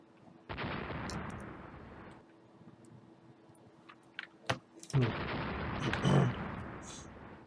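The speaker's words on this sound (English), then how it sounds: "All these little ships are shooting at each other and doing nothing." Naval guns firing in the Rule the Waves warship battle game, two long rumbling bursts of distant shellfire split by a quieter gap holding a few sharp clicks and thuds, no voices.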